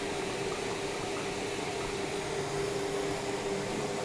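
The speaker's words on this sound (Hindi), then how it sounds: "तो मैं ये डिस्पेंसर से गर्म पानी" Hot water streams from a water dispenser into a vessel in a steady, even pour with a faint hum underneath, lasting the whole stretch with no talking.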